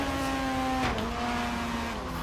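A rotary-engine car in Forza Horizon 3 revs high and steady, a loud, smooth buzzing drone that dips briefly as it shifts and then climbs again, with no talking.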